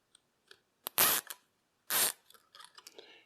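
Snips of scissors or cutters trim the excess of a wire tie during auxiliary fan work on a Mercedes 560SL: a few sharp, close clicks and two louder crunchy cuts, then light rustling handling, with no talking.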